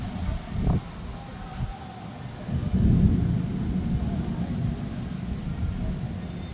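Thunder during a massive evening thunderstorm over Mapusa town rolls in as a deep, loud rumble, swelling midway and lingering as a long low growl with no voices.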